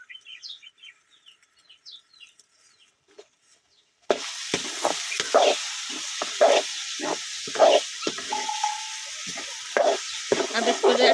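Coconut pieces and raisins being roasted and stirred in a pan, starting with quiet birdsong alone, then a sudden loud run of sizzling and scraping stir strokes for the rest.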